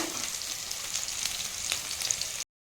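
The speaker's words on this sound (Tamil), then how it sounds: "இப்போ வந்து வெங்காயத்தை இதில் சேர்த்து வெங்காயத்தை இதில் சேர்த்து வதக்கணும்" Onions sizzle steadily in a pan, a close, even frying hiss with faint stirring ticks, no talking, cutting off abruptly near the end.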